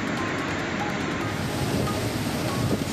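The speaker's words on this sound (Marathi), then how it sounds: "त्यामुळे सहस्त्रकुंड धबधबा ओसंडून वाहू लागलाय" Sahastrakund waterfall in full flood after heavy rain, a steady, dense roar of rushing, crashing water that stays loud and unbroken throughout, with no voices.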